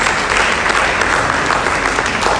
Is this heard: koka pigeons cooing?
no